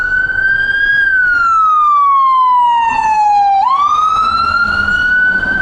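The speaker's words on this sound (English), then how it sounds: "Oh, here comes our ambulance I told you about. Nice and loud." An ambulance medic unit's siren wails loud and close in city traffic in Washington, DC, one long sweeping tone that falls steadily, then jumps back up and holds, rich in harmonics.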